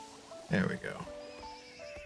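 A horse in the video game Infinity Nikki gives a short, bright whinny that rises and trails off, heard close over a soft musical game background.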